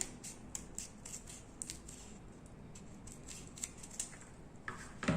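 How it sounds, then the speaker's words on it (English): Scissors snip away the excess material from a homemade wind-turbine dynamo base, a series of quiet, crisp cuts spaced irregularly across the moment with a faint background hiss. "I'm just going to cut it using the scissor."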